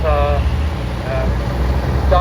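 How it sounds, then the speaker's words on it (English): Diamond T truck hauling a Rogers trailer in a wartime vehicle parade, a steady low engine rumble passing close by under continuous crowd and commentary talk. "our Diamond T and the Rogers trailer, and then the Scammell"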